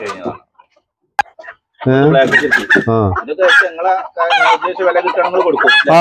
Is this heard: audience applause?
no